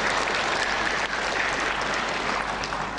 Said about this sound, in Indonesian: Tepuk tangan lagi untuk saya